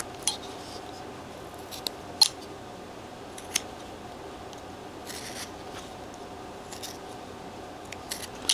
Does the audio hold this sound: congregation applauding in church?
no